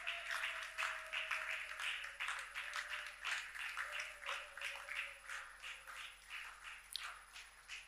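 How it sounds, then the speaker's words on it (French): A congregation in a prayer hall applauding, with faint, steady rhythmic clapping that pulses throughout under a sustained tone. "Acclamons très fort pour l'honneur de notre Dieu."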